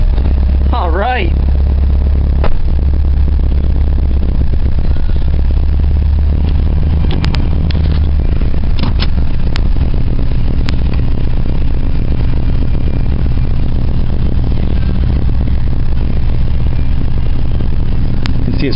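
An Oldsmobile Vista Cruiser engine idles after a cold start in a garage, a steady low rumble running the whole time with a few faint clicks and clatters on top.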